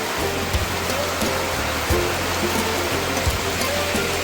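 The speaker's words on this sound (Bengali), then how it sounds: "প্রচণ্ড ধরে বৃষ্টি পড়ছে। জোরে বৃষ্টি তোমরা বুঝতে পারছো কিনা, পুরা জোরে বৃষ্টি পড়ছে।" Heavy rain pours at a hillside homestay in Kurseong, a loud, dense, steady roar of falling water with occasional heavier splashes, continuous and close, with no talking.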